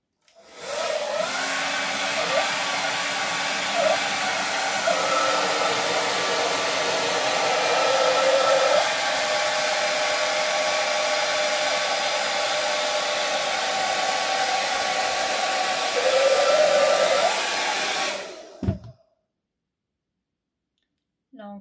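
A Philips Thermo Protect BHD350/10 hair dryer fitted with its concentrator nozzle blows with a steady, close whooshing roar for about eighteen seconds, with slight pitch wavers, then clicks off abruptly into near silence.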